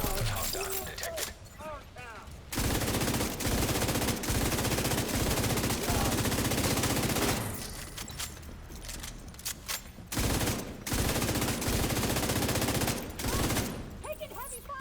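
Gunfire in The Division 2: long, dense bursts of automatic weapon fire, loud and close, broken by brief pauses, with game voice lines and effects mixed in.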